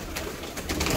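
A pigeon coos briefly and close, a short throaty call that swells louder toward the end against a noisy loft background.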